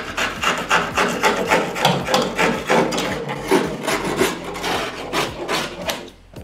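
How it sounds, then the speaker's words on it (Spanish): A small hand saw trims the edge of a moisture-resistant gypsum board, making a fast, steady series of close rasping back-and-forth strokes for several seconds. "lo rebajamos con el serruchín"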